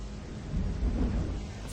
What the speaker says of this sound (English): Outside, the rain lashed against the shed doors and whistled through the gaps in the roof.